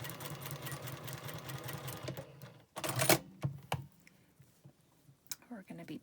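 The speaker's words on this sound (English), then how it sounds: "And then sew your 1/4 inch seam." Sewing a quarter-inch seam, a sewing machine runs in a steady, fast, even stitching rhythm, close and clear, then stops and gives way to a few scattered handling clicks and taps.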